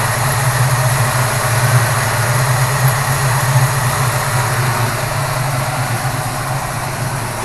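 A 1973 Ford Maverick engine idles steadily with a low, even rumble from the exhaust pipes, continuous and close for several seconds, with no voices.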